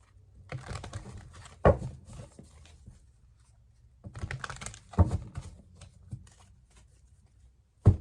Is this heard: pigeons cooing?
no